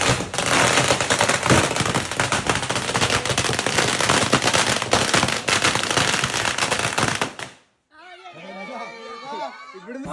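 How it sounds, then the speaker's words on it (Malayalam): Firecrackers set off at home during a Vishu celebration, a dense, loud rapid-fire string of bursts crackling for about seven seconds before cutting out, followed by people talking and exclaiming. "നേരെ പടക്കം പൊട്ടിച്ചു."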